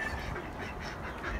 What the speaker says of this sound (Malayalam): കുറേ താറാവുണ്ട്.